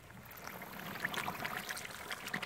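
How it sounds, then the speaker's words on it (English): Pork fat rendering into lard in a pot over a low open fire bubbles steadily, with soft popping blips and a gurgling, watery hiss, fairly quiet and without talk. "But up here, it's bubbling away."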